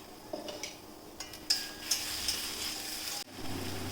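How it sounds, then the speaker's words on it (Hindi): Spice paste frying in hot oil with cumin and bay leaves, being stirred in the pan, a soft low sizzle with light scraping and a few small clicks of the spoon, fairly quiet and close. "हम इसमें पेस्ट डाल देते हैं और इसे चलाएंगे"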